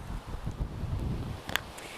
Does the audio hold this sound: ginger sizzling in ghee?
no